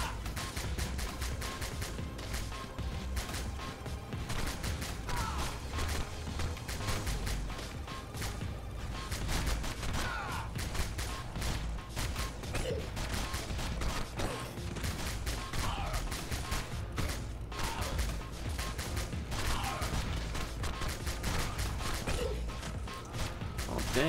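Dense, continuous rapid gunfire rattles through the run-and-gun game Bionic Commando Rearmed, an unbroken clatter of shots and impacts beneath busy game sounds.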